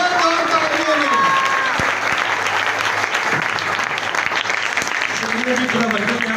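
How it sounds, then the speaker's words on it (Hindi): A church congregation at a Christmas service bursts into sustained applause, a dense steady roar of clapping from a large crowd, with a voice speaking over it at the start and end. "जोरदार तालियां, जोरदार तालियां"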